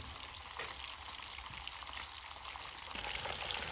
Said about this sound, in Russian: Как она жарится, вы посмотрите просто.